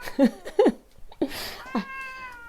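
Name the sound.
cat meowing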